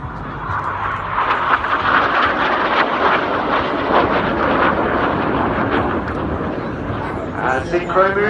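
Red Arrows display jets in formation roaring past overhead at an air show, a loud continuous jet rumble under an announcer's commentary, fading toward the end.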